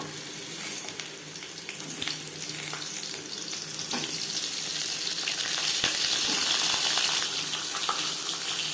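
Pointed gourds (potol) frying in hot refined oil give a steady, moderately close sizzle that grows a little louder partway through, with faint clinks here and there and no talking.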